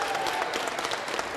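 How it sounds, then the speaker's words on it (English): An audience at the Meadville Beloved Community Fair claps together, a dense, even patter of many hands heard somewhat distantly and quietly for a brief moment, with no voices over it. "can we applaud Dr. Dixon?"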